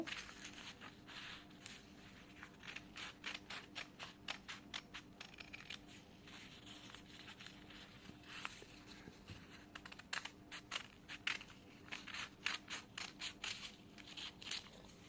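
Scissors snip through fabric while cutting out a neck design, a quiet series of quick, crisp clicks in an irregular rhythm, close by and faint, with no talking.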